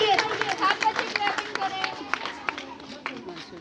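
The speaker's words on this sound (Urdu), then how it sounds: "اسٹوڈنٹس کلیپنگ میں کنجوسی نہیں ہونی چاہیے." Students in an audience clap in a loose, uneven burst of applause amid crowd murmur, fading gradually.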